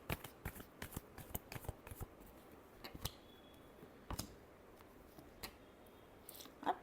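A deck of cards is shuffled close by in quick bursts of crisp riffling flicks with short gaps, and a final flurry at the end.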